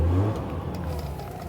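A 1992 Mercedes-Benz 300E W124 idles, a steady low engine hum close by, slightly louder at the start, with no talking.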